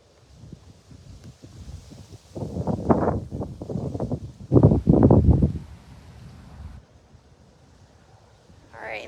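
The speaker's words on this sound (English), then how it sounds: "bear with us with the wind a little bit" Wind gusting over the microphone outdoors at an apple farm during harvest, with low, rumbling buffeting that swells in strong gusts around the middle and then eases back to a steadier, quieter blow.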